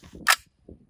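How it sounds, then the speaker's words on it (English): A shotgun fires a single rifle slug at stacked pavers, a sharp broadband crack that rises and falls in a split second, with a duller low knock trailing just after it. "second shot, rifle slug"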